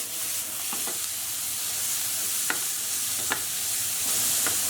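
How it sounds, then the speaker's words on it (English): Capsicum and sliced chilli are stir-fried together in a hot pan for chicken cashew nut noodles, giving a steady close sizzle broken by a few sharp spatula scrapes and taps, with no one speaking. "we'll add in our capsicum and our sliced chilli. And we just want to mix that through."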